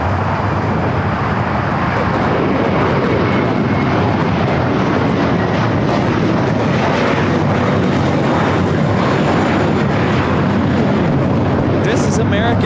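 An American Airlines Airbus A321 takes off at LAX, a loud, steady broadband jet roar filling the whole span without letup. Talk may sit faintly beneath the engine noise.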